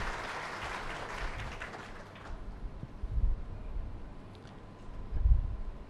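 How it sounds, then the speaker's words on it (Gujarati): Audience clapping at a mass Hindu wedding ceremony: a sustained burst of crowd applause that fades after a couple of seconds into room murmur, with a few low thumps from a microphone. "આપણે બહેનને ખૂબ જ તાળીઓથી વધાવીશું."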